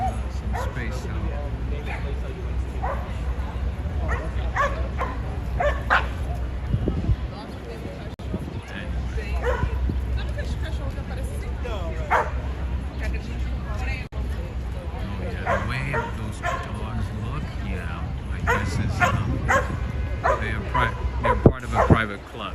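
Dogs bark, yip and whimper on a busy Manhattan street during an afternoon walk, including a Doberman and a big dog, with repeated barks throughout over crowd babble and nearby voices.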